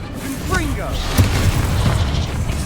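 Fiery Confringo spell blasts in Hogwarts Legacy, a continuous roar of booming bursts and crackling impacts layered with spell whooshes, loud and dense throughout, with a voice shouting over the combat.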